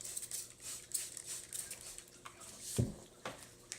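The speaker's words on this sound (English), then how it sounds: "give it a little mist spray" Repeated quick hissing bursts from a mist spray bottle misting an emersed plant setup, each a short airy puff, fairly quiet and close, with a few soft clicks in between.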